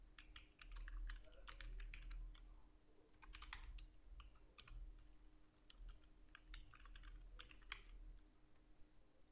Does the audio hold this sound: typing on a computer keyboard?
yes